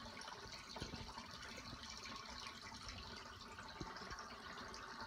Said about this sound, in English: So we're going to put on the drain. And what you will see on the side here is the water coming out.